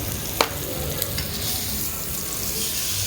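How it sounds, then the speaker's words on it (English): A steak fries in a hot pan in a kitchen, with a close, continuous sizzle and a couple of sharp clicks of a utensil as the meat is flipped. "now we're going to go ahead and flip our steak"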